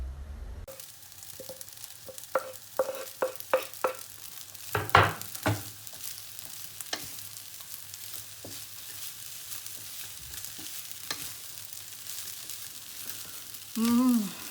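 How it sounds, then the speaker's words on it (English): Soft sizzling and scraping of Thai fried rice being stir-fried in a hot pan, with intermittent clinks of a utensil against the metal. "Keep frying for a few more minutes."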